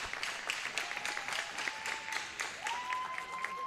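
Crowd in an ice hockey rink applauds steadily during a high school girls' playoff game, a sustained wash of clapping with a whistle-like tone holding above it and faint voices mixed in.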